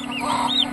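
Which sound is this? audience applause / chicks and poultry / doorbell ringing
chicks and poultry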